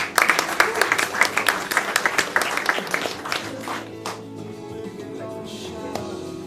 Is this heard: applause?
yes